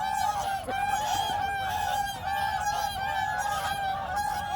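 Loud, continuous honking from several large birds close by, overlapping calls with no pauses.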